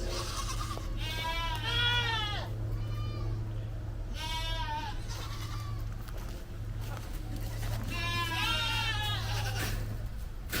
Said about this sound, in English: And then we have our happy goats, right?